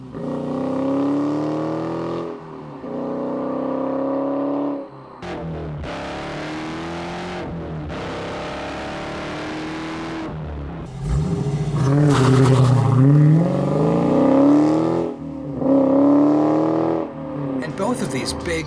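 Dodge Challenger T/A with the 6.4-liter SRT 392 V8 and factory performance exhaust, revving in repeated loud bursts that rise and fall, with a voice talking over parts of it.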